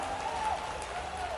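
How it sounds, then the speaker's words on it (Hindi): Audience at an outdoor political rally in Shivpuri claps in a steady, dense burst of applause, with a faint whistle or tone briefly audible over the clapping. "तो जब आप इतनी अच्छी ताली बजा रहे हो"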